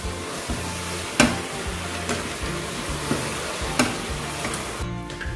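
Pulao ingredients frying in a pan, a low continuous sizzle broken by a few sharp spoon clicks and scrapes against the pan as the mixture is stirred, with no voices.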